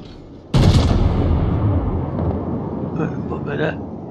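Heavy naval guns boom from the Kaiser battleship in World of Warships, a loud sudden blast that rolls on into a long rumbling decay, with a couple of fainter, higher-pitched reports following near the end.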